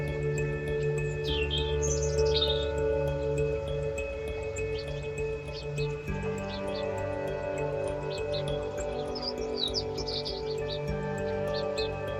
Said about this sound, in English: the robin young are almost fully feathered and are very noisy at this stage when being fed